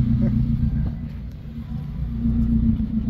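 A car's Toyota 3S-GTE engine rumbles steadily and close by, a low constant drone throughout the short stretch.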